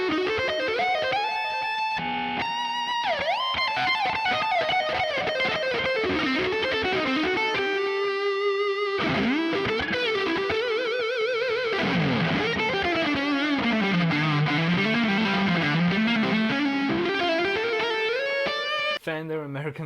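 Lead lines played on the neck pickup of a Fender American Vintage II '61 Stratocaster electric guitar, a stream of sustained, bending and sliding single notes with overdrive, loud and continuous with no voices.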